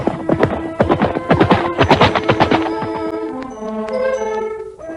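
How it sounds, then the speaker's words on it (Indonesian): Horse hooves clop in a quick, loud rhythmic run as mounted riders travel in a historical drama set in the Singasari era, easing off into a softer, more distant trail of steps near the end. "Panglima Kausing berkuda di belakang rombongan"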